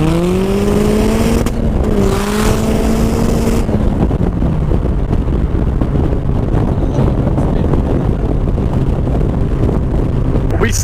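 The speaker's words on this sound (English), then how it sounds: "60 to 120 kilometre an hour pull." An RX-5 250 car accelerating hard from 60 to 120 km/h, a loud engine note climbing in pitch through a gear change, heard from inside under heavy wind roar that dominates once the revs settle.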